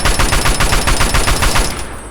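Automatic assault rifle fire in Fallout 3, a steady rapid burst of about a dozen closely spaced shots, loud and close, running nearly two seconds before trailing off.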